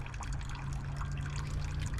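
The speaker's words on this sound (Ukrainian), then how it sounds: "Помпа не працює, а потік води набагато зменшився." Water trickles steadily from a spring's pump outlet near Stosyk Lake by Briukhovychi, its flow weakened, a continuous close splashing dribble with no voices.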